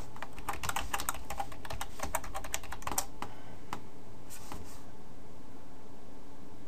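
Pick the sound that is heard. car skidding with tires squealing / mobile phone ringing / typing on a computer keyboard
typing on a computer keyboard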